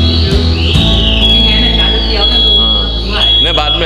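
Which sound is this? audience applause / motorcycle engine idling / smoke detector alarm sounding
smoke detector alarm sounding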